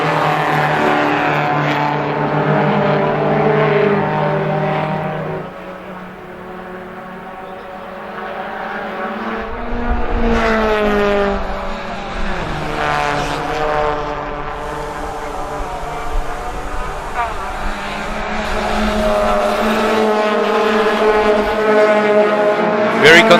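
VW Challenge race cars lapping a circuit, engines droning and rising in pitch as they pass, with a loud surge of several cars sweeping by midway, under a commentator's ongoing talk.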